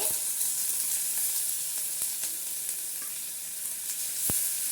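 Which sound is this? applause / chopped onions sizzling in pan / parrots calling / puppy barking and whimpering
chopped onions sizzling in pan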